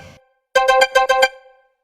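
A phone ringtone plays a quick series of about six bright electronic tone pulses in an even rhythm. It is loud and close, following a brief faint noise, then fades out.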